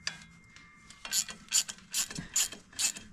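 A ratchet wrench with a 13 mm socket clicks in quick bursts, loosening bolts on a Duramax engine, cranking repeatedly with a steady mechanical rhythm, close by and moderately loud, with no talking.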